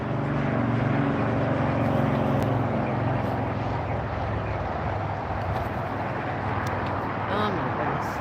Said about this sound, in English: The JetBlue that just arrived is taxiing in front of us now with the mosaic tail.